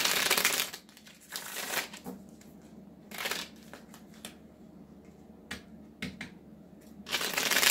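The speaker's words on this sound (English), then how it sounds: "2 more shuffles." Tarot cards riffle and slap together in several quick bursts during a tarot reading, with soft gaps between the shuffles and a longer final burst at the end.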